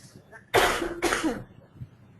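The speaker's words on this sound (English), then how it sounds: "Excuse me, I've got a cough, 1 second." A speaker coughs twice in quick succession, loud and close, during an online webinar, followed by faint throat noise.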